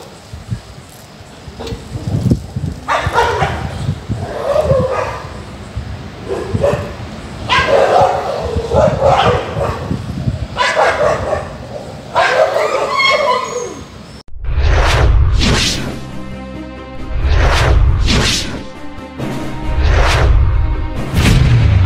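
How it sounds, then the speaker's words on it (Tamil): Several dogs bark, yip and whimper at a government hospital in Palladam at night, repeated sharp barks close by. Speech runs over the first half, and bursts of barking follow on their own. "கடந்த சில தினங்களாக நாய்ப்படை ஒன்று பாதுகாத்து மருத்துவமனையில் தன் ராஜாங்கத்தில் விளையாடி வருகின்றன."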